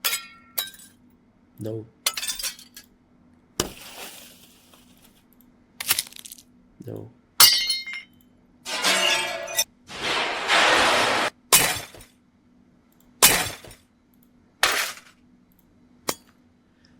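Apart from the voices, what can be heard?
glass shattering sound effect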